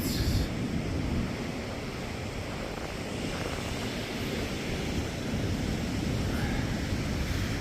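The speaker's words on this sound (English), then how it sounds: "Wind playing around with the nose of the vessel." Wind and water wash around a small Invader boat, about 18 feet, floating in shallow water in a gully, with wind buffeting the bow; a steady, broadband rush of wind and lapping water, with no clear speech.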